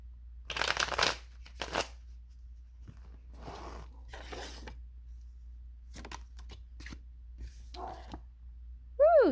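Tarot cards being shuffled close up in several short bursts of riffling and sliding, separated by quiet gaps, with a short sharp sound at the very end.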